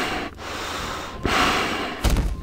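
Heavy, ragged breathing from an animatronic lurking in a vent in the FNAF 3 co-op mode of Garry's Mod, coming as loud rasping breaths with short gaps and a thud near the end.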